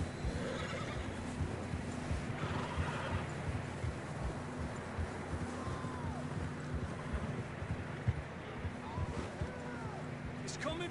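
Horses whinny and neigh in the video game Red Dead Redemption 2 amid a steady wash of wind and trampling hooves, with voices talking underneath throughout.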